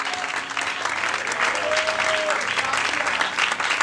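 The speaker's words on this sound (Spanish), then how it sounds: "Dale un aplauso fuerte al Cristo de la gloria." A church congregation applauds loudly and steadily at a Spanish-language service, a dense continuous wash of clapping with faint voices mixed in.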